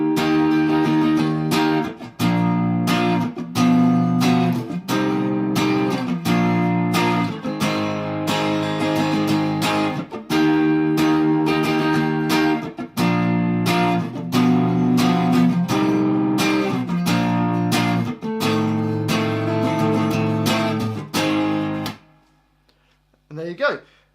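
Guitar strums the chorus chord progression in a steady, driving rhythm, close and full for about twenty seconds before stopping abruptly, with no talking over it.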